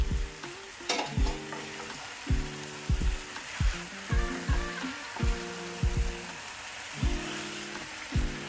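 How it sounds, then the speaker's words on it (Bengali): Boiled, pre-fried potatoes tossed into a pan of frying fish-head ghonto with cabbage, a bright sizzle broken by about a dozen regular knocking stir strokes against the pan, close up and with no voices. "এখন আমি আলুগুলো দিয়ে দিচ্ছি, ভেজে রাখা আলু"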